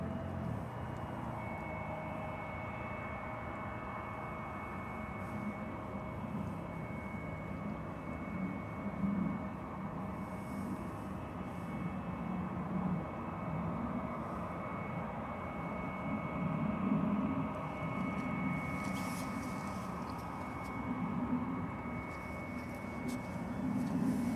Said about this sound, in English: we catch this bombardier making its way past us